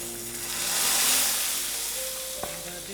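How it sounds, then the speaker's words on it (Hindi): A hot tadka of ghee, asafoetida and whole red chillies is poured into aloo mooli thechwani, giving a loud sizzling hiss that swells within the first second and then slowly fades, with a faint tonal hum underneath. "इस तड़के को हम थिचवानी में मिला लेंगे"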